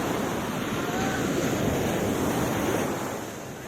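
Sea waves at Pakala beach in Singarayakonda roll in as a steady, loud surf roar, with heavy wind buffeting the microphone and no speech over the continuous wash.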